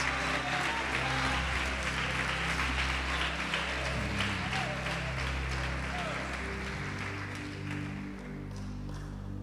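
Applause from a church congregation, steady and sustained throughout, with a low musical drone underneath.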